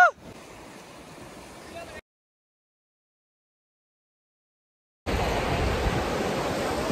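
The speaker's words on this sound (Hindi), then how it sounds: "आपको पीछे से पानी की साउंड आ रही होगी" Water waves washing at a lakeshore in Ladakh, a steady broadband wash heard in two stretches separated by a few seconds of silence, louder in the second part.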